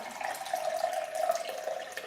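Water poured steadily into a container on a scale while measuring 350 grams for a 70% hydration sourdough dough, a continuous close, moderately loud trickling stream with no speech.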